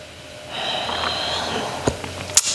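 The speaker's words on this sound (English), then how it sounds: "One more strong breath here." A strong, forceful exhale through the nose during a yoga exercise, a sustained breathy rush lasting over a second, close and fairly loud, then a couple of sharp sniffs at the end.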